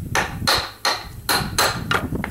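A hammer taps the washer out of an oil cooler housing on a Ford 6.0 Powerstroke diesel: about five sharp metallic strikes in an even rhythm, close and loud, with no voices.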